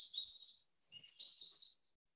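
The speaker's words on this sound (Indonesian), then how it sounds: "Ada suara burung." Birds chirping in a forest: bright, close, continuous twittering and tweets that stop abruptly near the end, with no talking.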